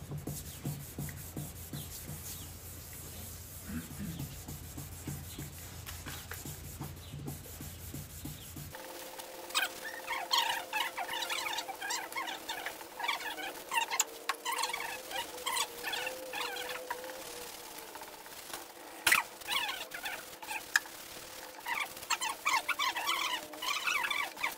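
Steady, gritty rubbing of 1500-grit sandpaper on a car headlight lens, repeated back-and-forth strokes up close with no talking.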